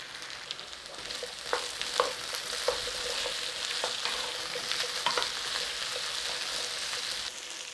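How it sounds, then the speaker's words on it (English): Potatoes fry in a pan with a soft, even sizzle and scattered pops and crackles, fairly quiet and close. "Turn them all over and brown them up."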